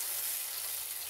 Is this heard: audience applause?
no